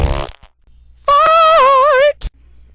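A voice imitates a fart, a sustained wobbling, buzzy blurt lasting about a second, loud and close, between short bits of breathy noise.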